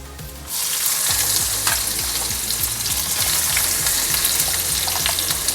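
Onion sizzles loudly in hot oil with mustard seeds and fenugreek for a tempering in a Kerala-style tamarind curry, a sudden burst of frying that settles into a steady, close, crackling hiss.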